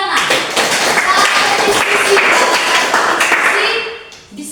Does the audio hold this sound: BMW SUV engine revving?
no